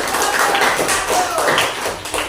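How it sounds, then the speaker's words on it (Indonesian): A classroom of students clapping together on a teacher's cue, a dense, steady burst of many hands lasting a couple of seconds, fairly loud and close. "Ayo, tepuk tangan."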